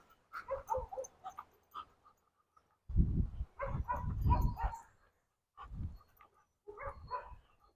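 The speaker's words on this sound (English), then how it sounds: "So there's some dogs barking here." Several dogs bark in short bursts with gaps between them, fairly close, no talking.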